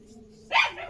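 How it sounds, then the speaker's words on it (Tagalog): A single short, sharp dog bark near the end after a quiet moment. "Palagi na nag-away yung mga aso dito."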